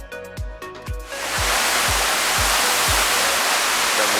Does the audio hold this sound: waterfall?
yes